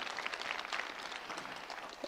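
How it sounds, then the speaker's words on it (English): Congregation applause during a Sunday church service, a steady, dense wash of clapping at a fairly low, even level throughout. "let's give them a round of applause ahead of time"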